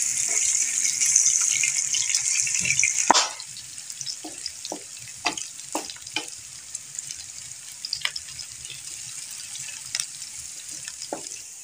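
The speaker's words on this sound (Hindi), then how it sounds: "अब हम इसमें 2 मीडियम साइज़ के प्याज डाल रहे हैं। अब प्याज को अच्छी तरह गोल्डन ब्राउन करना है।" Two medium onions fried in a pan for white chicken karahi: a loud, close, steady sizzle for a few seconds drops to a quieter fry, broken by scattered scraping and clicking stirring strokes.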